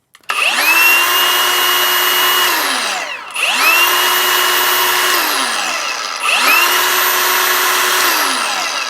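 A DCA ADSM06-125 angle grinder runs up to a loud, high whine three times, each start climbing quickly and each run winding down before the next switch-on, close and with no talk.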